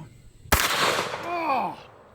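A 500 Magnum revolver fires a single 600-grain Underwood round: one sharp, loud crack that rolls off into a short rumbling tail lasting over a second.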